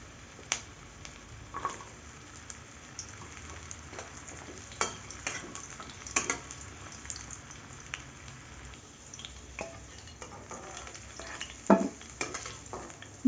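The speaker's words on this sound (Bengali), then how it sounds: "এবার এই তেলের মধ্যেই একে একে আমি সবজিগুলো ভেজে নেব।" Carrots frying in oil in a home kitchen pan, a soft steady sizzle with occasional sharp crackles and stirring clicks, no talk.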